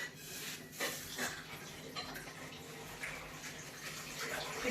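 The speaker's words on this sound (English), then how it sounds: "Just tip out your excess water because you won't be needing that." Hot pasta water pours out of a cooking pan into a sink, a steady splashing, hissing rush that stays fairly constant with small surges throughout, heard close and without talk.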